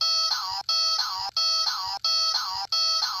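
A Zhu Zhu Pets Hank toy hamster gives off a loud, bright electronic chirping tone, repeated in about five even bursts separated by short gaps.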